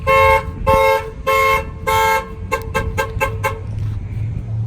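An alarm on a GMC 5500 bus blares, set off through the driver's door: four long horn blasts, then a fast run of short honks over a low idling rumble, loud and close.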